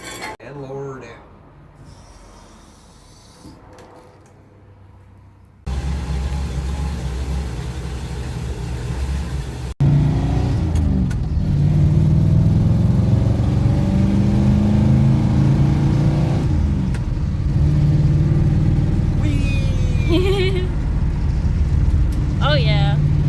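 A 1951 Mercury flathead V8 fitted with a Holley red fuel pump idles and revs, starting quiet, then a steady, louder running note that rises with revving; people talk over it.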